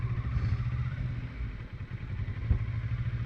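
A motorcycle creeps along at walking speed with clutch and throttle working together during a licensing skills test, its engine holding a steady low putter close by, moderately loud, with no talking.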